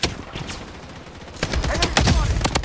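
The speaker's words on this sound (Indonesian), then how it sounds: "Di depan ada tembakan." Rapid bursts of gunfire in the video game Blood Strike crackle and pop, sparse at first then growing denser and louder with overlapping shots, sounding like a close-range firefight.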